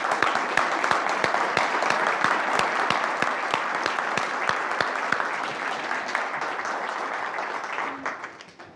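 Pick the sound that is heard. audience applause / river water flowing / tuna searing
audience applause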